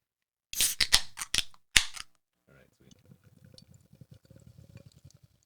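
A pale ale is cracked open with a few loud, sharp snapping pops in quick succession, followed by a pause and then a soft, steady fizzing and crackle of carbonation.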